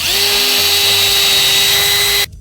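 A power drill bores a screw hole into a guitar pickguard, a loud, steady high-pitched whine held at constant speed for about two seconds before stopping sharply.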